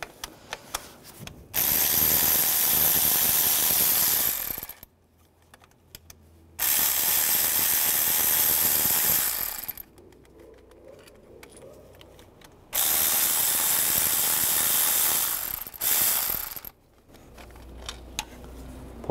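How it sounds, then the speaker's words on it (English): A ratchet with an E12 socket removes bolts on a 2011-2015 Chevy Cruze oil filter housing, heard as three loud sustained buzzing runs of several seconds each, separated by quieter handling pauses. "Now remove these three bolts, use an E12 socket."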